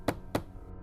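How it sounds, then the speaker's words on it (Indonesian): Two firm knocks on a door, spaced about a quarter second apart, close and distinct as a sound effect in a spoken horror story, with quiet room tone after. "Suara ketukan itu beralih ke pintu depan."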